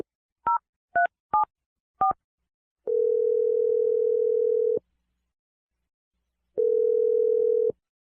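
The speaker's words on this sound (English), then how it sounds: "We're going to dial Darren's phone number right now." A phone dials out during a radio show: four short touch-tone beeps in quick succession, then two long ringback tones separated by a pause, clean and alone.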